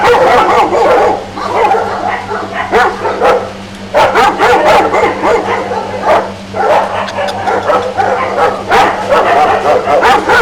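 Large-breed dogs at a kennel, including Newfoundlands and English Mastiffs, bark loudly and repeatedly in overlapping bursts close by, with a few yips and whimpers mixed in over a constant low hum.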